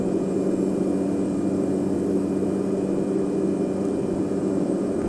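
Small bush plane engine roaring steadily at max takeoff power during a short-field takeoff, a loud, constant droning hum that fills the cabin without letup.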